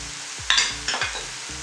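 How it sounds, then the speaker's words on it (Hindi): A spoon stirs Multani masala into chole in a hot pan, giving several quick scraping strokes over a soft sizzle of frying, close and clear with no voice. "मिक्स करेंगे"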